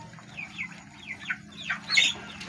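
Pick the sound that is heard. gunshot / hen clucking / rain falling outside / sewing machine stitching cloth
hen clucking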